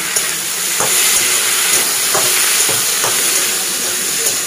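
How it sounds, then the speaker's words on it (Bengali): Potato and eggplant fry in oil with mustard seeds and dried chili, giving a steady loud sizzle and hiss with a few faint clicks of stirring, and no voices. "এইটা ভাজা করছে, সর্ষে ফোড়ন, শুকনো লঙ্কা ফোড়ন দিয়ে।"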